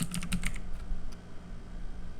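Keystrokes on a computer keyboard tapping out a short command in a quick cluster of clicks, then falling quiet apart from a few faint stray taps over a low background hum.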